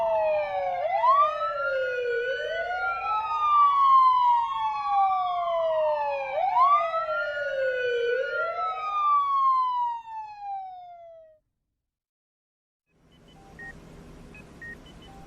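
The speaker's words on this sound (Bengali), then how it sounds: "জিপ আর অ্যাম্বুলেন্স শহরের বুক চিরে বো বো শব্দ করতে করতে ছুটে চলল" Wailing sirens of a speeding jeep and ambulance racing through a city, two overlapping rising-and-falling siren tones sweeping loudly for about eleven seconds, then stopping abruptly, followed by a brief silence and faint background noise.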